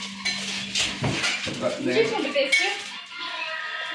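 Metal pots and vessels are picked up and set down in a home kitchen, giving several irregular clanks and scrapes close by, with a low steady hum underneath.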